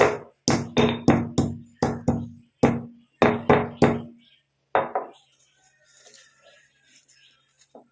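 Almonds pounded lightly in a mortar with a pestle, about a dozen sharp knocks in an uneven rhythm, close and clear, trailing off into faint clatter and quiet.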